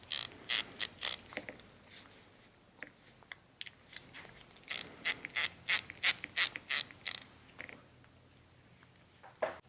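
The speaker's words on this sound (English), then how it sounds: "Begin by removing the M-lock hardware, which is the screw and T-nut from the mount." Small M-lock screws and a T-nut being unscrewed from a Keltec optic mount, a quiet series of ratcheting clicks in short bursts with pauses, close up and alone.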